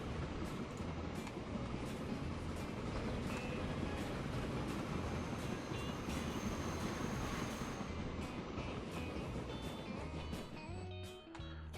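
A train runs in the railway building game Transport Fever, a quiet continuous rolling rumble with repeated clicking and short tonal beeps scattered throughout, no voices.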